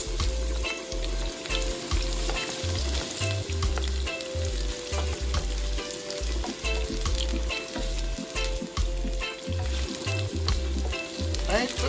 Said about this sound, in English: And saute them nicely. Right? Then we go in with our white onions.